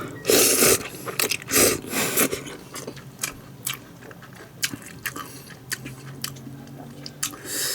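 Close, wet chewing and biting of Nongshim tuna mayo bibim noodles eaten at home, with smacking and slurping bursts that come and go irregularly, loudest at the start and then quieter.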